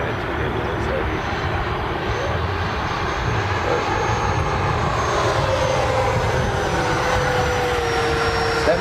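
An FMS Rafale RC model jet flies at half throttle with a steady whooshing ducted-fan whine that holds level throughout, close and fairly loud, while a person talks over it.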